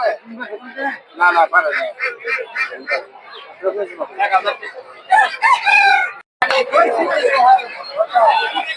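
Roosters crow and native chickens cluck amid a busy rural poultry market in Golakandail, with people talking loudly over the birds throughout.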